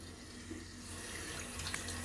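Warm tap water runs steadily into a sink while a man rinses after a shaving pass with an Aylsworth Apex double-edge safety razor; a continuous, fairly quiet stream with no talking.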